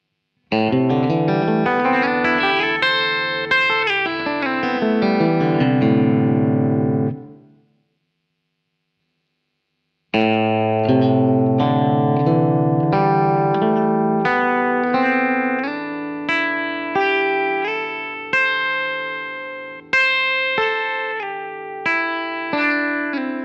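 A distorted electric guitar plays a descending run of notes, stops for a few seconds of silence, then launches into a longer flowing lick with repeated picked phrases.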